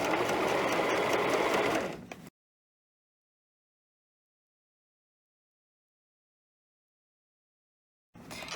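A sewing machine stitches steadily around the neckline of a knit dress for about two seconds, then stops and falls silent, with a brief restart near the end.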